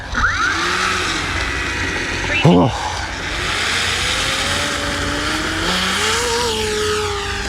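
An E-flite V1200 RC jet-powered plane taking off from tall grass with flaps at 50, its high whine climbing steadily in pitch as it accelerates, a brief clatter partway through and someone speaking over the sound.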